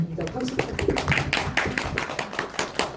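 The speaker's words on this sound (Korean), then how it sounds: "박수 부탁드립니다." An audience at a Korean film screening talk for First Child applauds in a dense, steady patter of claps for about three seconds.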